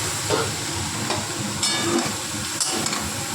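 Chopped snake gourd frying in a hot wok with shrimp, a dense, continuous close-up sizzle with faint stirring scrapes and a few soft knocks.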